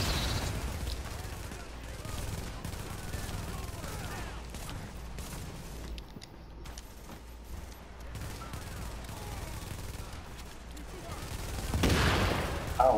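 Gunfire in a first-person shooter game, rapid bursts and a dense volley of shots with a louder blast near the end, while a player talks over it.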